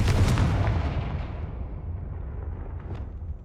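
A Confringo blasting spell from Hogwarts Legacy detonates with a loud, near boom at the start, its rumbling low roar decaying steadily over a few seconds with a faint crackle near the end.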